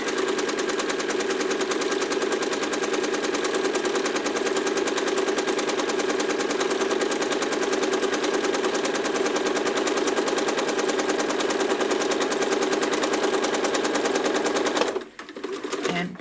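A sewing machine stitches across a quilt's uneven piano key border using ruler work, producing a fast, continuous mechanical whirr that runs steadily on its own before cutting off abruptly near the end.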